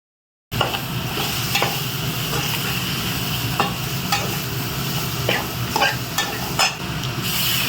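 Mutton liver fry with pepper powder being stirred in a pan, a steady sizzle with repeated scraping strokes of the spoon at an even rhythm, close and fairly loud.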